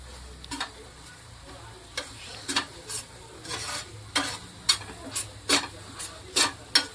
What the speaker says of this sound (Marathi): थोडं मिक्स करून घेऊ मीठ.